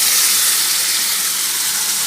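Raw chicken pieces sizzle in hot oil in a pan, making a steady, close, bright hiss with no voices over it.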